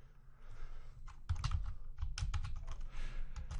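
Someone types a password on a computer keyboard while logging into a router lab: a quick run of close, crisp key clicks in short irregular bursts, with no talking.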